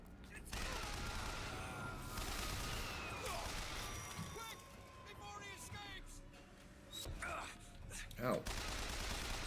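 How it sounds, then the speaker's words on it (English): Rapid machine gun fire in the video game Bioshock Infinite rattles in dense bursts through most of the stretch, loud and close, with crashes and impacts mixed in and a voice exclaiming briefly. "Now I have a machine gun."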